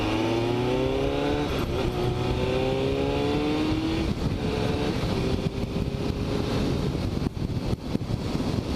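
Kawasaki ZX-7R superbike engine while riding, loud and close, rising in pitch through the gears with a gear change, then settling into a steady roar mixed with wind rush.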